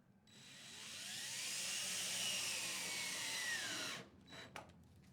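A power drill screws a Velcro strap onto a Murphy bed frame rail, a close whirring motor that spins up, holds a steady high whine for about four seconds, then stops, followed by a couple of brief clicks.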